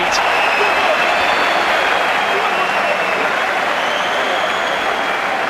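Boxing arena crowd on its feet, roaring and applauding in a steady, loud, dense wash of clapping and cheers that never lets up.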